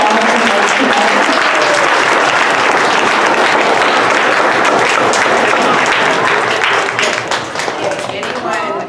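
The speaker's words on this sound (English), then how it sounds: "Let's give him a big round of applause." A large audience at an evening event gives sustained, loud applause, a dense wash of clapping that holds steady for several seconds and thins slightly near the end, with no talking over it.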